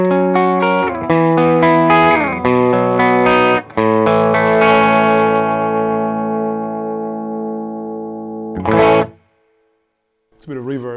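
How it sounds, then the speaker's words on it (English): Harley Benton EX84 electric guitar played clean through a Fender Hot Rod Deluxe amp with no pedal, a run of loud strummed chords and a long ringing chord that decays, then short chords after a pause. "This is clean, just this guitar in the Hot Rod Deluxe. There's no pedal activated."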